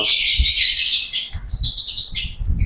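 Caged pet birds, a lovebird breeder's flock, chirp and tweet in rapid, overlapping high-pitched bursts, loud and close, with faint low bumps beneath.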